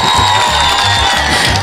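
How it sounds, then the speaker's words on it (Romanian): A studio audience at a Romanian dance contest show claps and cheers for all the contestants, a loud, dense wash of applause with whoops filling the whole moment. "Aplauze pentru toți concurenții."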